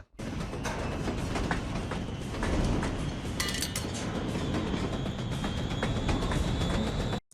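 A train rolls along railroad tracks in a Breaking Bad episode, a loud, steady rumbling rattle with scattered metallic clanks and clicks running unbroken for about seven seconds, with no talking.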